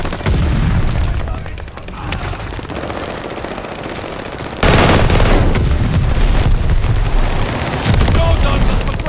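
Mortar fire and explosions in Mass Effect Legendary Edition, a continuous loud barrage of booms and rapid gunfire that grows heavier halfway through, with some speech mixed in.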